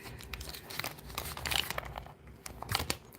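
Archangel Oracle cards being handled close by, giving irregular crinkling and crackling bursts of paper or plastic with brief soft pauses between them, and no voices.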